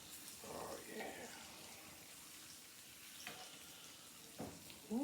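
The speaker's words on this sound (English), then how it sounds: "We don't want to fry them too hard because we're gonna smother them." Pork chops fry in a pan with a faint steady sizzle, broken by a few clatters and scrapes, and a person talks over it.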